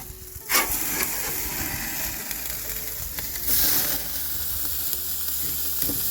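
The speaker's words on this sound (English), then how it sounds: "we're going to flip the burger, then we're going to add the cheese" A burger patty sizzles and hisses steadily on a hot grill, with a scrape and a louder burst of frying as it is flipped over, close and continuous without talking.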